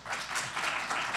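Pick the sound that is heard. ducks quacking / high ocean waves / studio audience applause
studio audience applause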